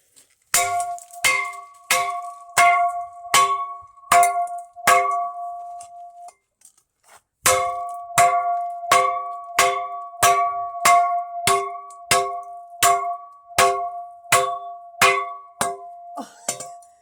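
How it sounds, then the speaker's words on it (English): A knockoff toy car is struck again and again, giving sharp metallic clangs in a steady rhythm that pauses briefly before resuming, loud and close with no voices. "Smashing up knockoff toys is just beyond so fun, eh?"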